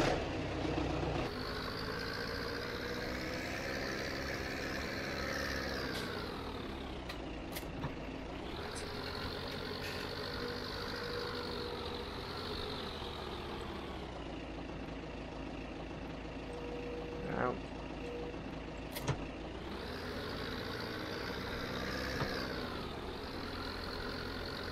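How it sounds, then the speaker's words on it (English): A tractor engine in Farming Simulator 17 runs continuously with a throaty, steady drone, its pitch rising and falling as the load changes, close and unbroken for the whole stretch. "I do love the sound of this tractor. It's just got the most beautiful engine on it. Really throaty."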